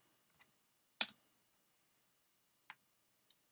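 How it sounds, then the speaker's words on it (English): A few sparse, faint clicks of computer keyboard keys, one sharper tap followed by two softer isolated clicks in a quiet room. "Now what I'm doing is I'm typing in"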